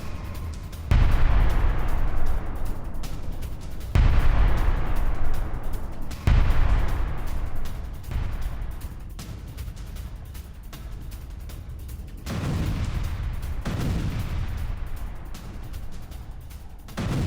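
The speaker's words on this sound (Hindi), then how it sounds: "फ्योदोसिया और रोजडोल में भी विस्फोट हुआ है।" Heavy explosions and artillery blasts in Crimea, including Feodosia, boom about six times in irregular succession, each deep thud followed by a long rumbling roar.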